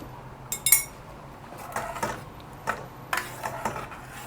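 A spoon stirs ground chia seeds and black sesame in a bowl, giving scattered light metallic clinks and scrapes in short irregular bursts, close and fairly quiet, with no talking.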